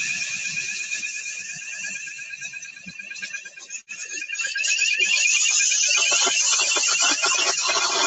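Fire alarm sounding during a demonstration of in-panel fire suppression, a loud, continuous high-pitched warbling tone that briefly dips, then returns stronger, with faint talk underneath.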